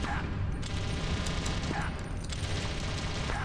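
Rapid bursts of gunfire in the Metal Gear Solid video game as a security camera is shot, a steady loud rattle of shots with game sound underneath.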